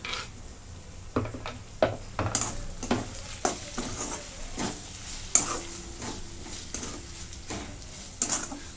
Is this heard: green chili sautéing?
yes